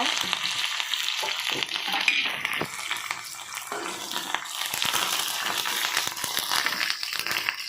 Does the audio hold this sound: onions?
yes